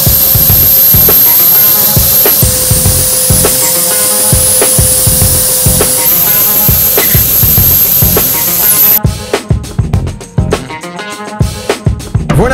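An injector-extractor lance sprays and sucks across carpet on a second cleaning pass, a loud continuous hissing spray with rhythmic strokes that cuts to choppier, intermittent bursts near the end.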